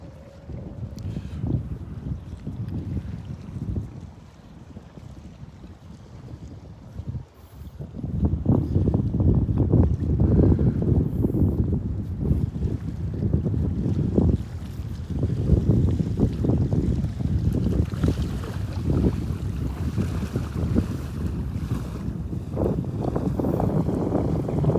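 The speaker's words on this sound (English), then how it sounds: "Breezy up here. Little bit of a breeze." Breeze at Delnor-Wiggins beach near Wiggins Pass, heard as steady wind buffeting the microphone: moderate at first, then stronger, rumbling gusts that continue throughout, with no voices.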